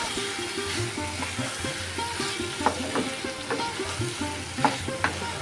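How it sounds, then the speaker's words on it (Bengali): Potato pieces fry with mutton keema in a pan, making a continuous close sizzle with occasional stirring scrapes and light knocks and a low steady hum underneath. "এখন এর মধ্যে আমি আলুটা দিয়ে দিচ্ছি আলু দিয়ে একটু ভালো করে কষিয়ে নেবে"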